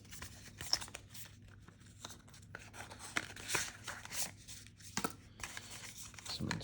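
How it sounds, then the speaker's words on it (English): Paper packaging of a Microsoft Adaptive Mouse being opened by hand, with close, irregular crinkling, tearing and rustling bursts spread across the whole stretch. "So I'm just going to open this up. It is a paper material for the packaging and whatnot."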